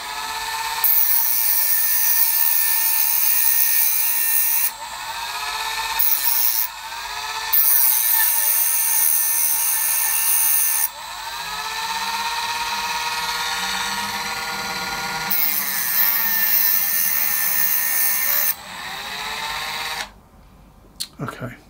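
A Dremel rotary tool grinds an old screwdriver to sharpen it. The loud, high whine runs in several bursts with short pauses, shifting pitch as the tool bears on the metal, then cuts off at the end.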